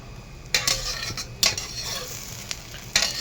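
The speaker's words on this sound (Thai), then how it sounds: "ทอดไข่เจียวหอมครับ อร่อยได้ทุกที่ทุกเวลาครับผม" A Thai omelette fries in a pan with a steady background sizzle, punctuated by a few sharp metallic clanks and scrapes of a utensil against the pan.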